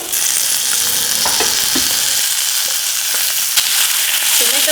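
Chopped onion hits hot oil in a pan, a loud dense sizzle that stays steady and close, with a few faint utensil knocks under it and no talk.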